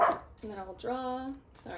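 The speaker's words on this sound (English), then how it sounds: "that's my dog" A dog named Flynn barks in short yelps and whiny barks close by, under a person's quiet talk in a room.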